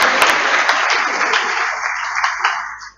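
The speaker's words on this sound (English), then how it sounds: "Let's clap for her." Audience clapping at the Accra Academy 90th anniversary inaugural service, a dense burst of applause from a crowd that holds steady and then tapers off and stops, loud and close.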